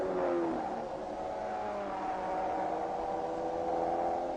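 A number 12 Ferrari race car at the 1959 Le Mans race pulls away, its engine revving and climbing in pitch in a steady whine, moderately close and heard alone.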